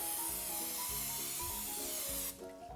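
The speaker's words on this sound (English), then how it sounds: "we need to spray our muffin tins with nonstick cooking spray." Nonstick cooking spray on muffin tins: a steady hissing spray runs for about two seconds, broadband and close, then cuts off abruptly, with soft background music underneath.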